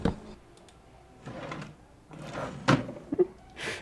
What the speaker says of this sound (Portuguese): o som da gaveta no baú, vamos ver.